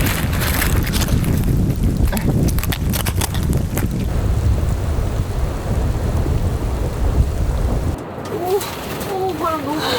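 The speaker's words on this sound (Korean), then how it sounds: "바람 너무 불어" Strong wind blowing outside a tent in a snowstorm, heard as loud, roaring gusts that buffet the microphone and then ease near the end.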